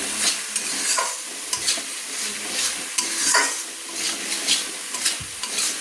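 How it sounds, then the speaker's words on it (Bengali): Ground turmeric and coriander stir-fried in oil, a loud close sizzle rising and falling in rhythmic surges as a spatula scrapes and turns the paste in the pan, with no voices. "দিয়ে ভালো করে আমি মশলাটাকে তেলের সঙ্গে কষিয়ে নিচ্ছি"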